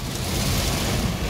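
Strong storm wind on a road by an air base in Tasikmalaya, roaring as a steady, loud broadband rush with gusty low rumble and no pauses.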